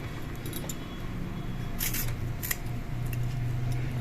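Tomatoes are roughly chopped with a knife: faint, scattered crisp cuts and snips over a low steady hum, with no talking.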